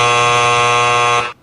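A harsh electronic wrong-answer buzzer sounds in one continuous loud blast, holding steady for just over a second before cutting off abruptly.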